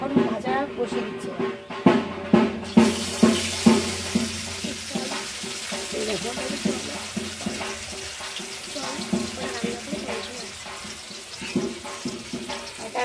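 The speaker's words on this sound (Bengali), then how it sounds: "একাই রান্না করছি, মাছ ভাজা বসিয়েছি।" Fish sizzles in a frying pan in a home kitchen, a steady crackling hiss with intermittent splashing and clattering knocks near the start, and a voice briefly talking beneath it.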